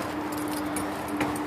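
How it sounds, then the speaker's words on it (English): A set of keys for a 1972 Ford F-250 pickup jangles near and continuously, with a brief brighter shake of metal partway through and a low steady hum underneath. "It comes with two keys"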